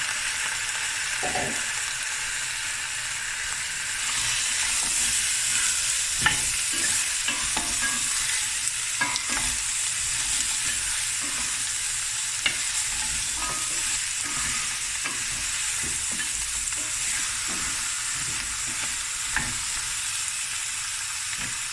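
Beef bones fry in a pot for a Cape Malay tomato bredie, giving a steady, close sizzle with scattered stirring scrapes and knocks throughout, no one speaking.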